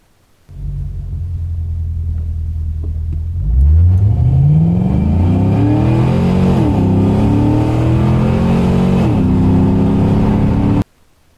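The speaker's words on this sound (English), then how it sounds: "So that's definitely my car accelerating. That's full throttle, I think." 1984 Buick Regal G-body with an LS swap (L96 engine, 6L90 transmission) idling, then launching at full throttle, the engine note climbing loud and close through several gear shifts before cutting off abruptly.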